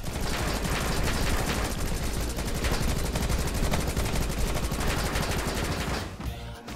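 Rapid, loud gunfire from the Rocketbirds: Hardboiled Chicken video game, sustained automatic bursts hammering for about six seconds before cutting off abruptly.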